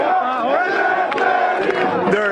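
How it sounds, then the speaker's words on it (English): A protest crowd in Syntagma Square during a general strike chants in unison, a loud sustained chorus of many voices with rhythmic rises and falls and sharp clapping accents scattered through. "They're chanting and clapping,"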